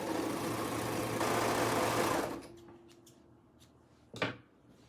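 A sewing machine stitches cuff ribbing for a neckband in a quick, close whirring run lasting about two seconds before it stops, followed by a few small clicks and a short handling knock.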